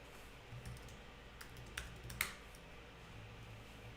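Typing on a computer keyboard while entering a vim command, a quiet scattering of light key clicks with a few sharper taps in the middle, close and alone.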